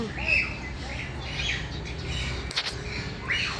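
A blue-and-yellow macaw at a wildlife park gives a few harsh squawks over a murmur of background voices and outdoor ambience.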